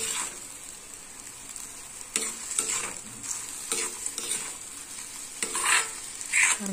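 Egg and goat brain stir-fry in a pan with a low continuous sizzle and repeated spatula scrapes and taps at an uneven rhythm, close by and without speech.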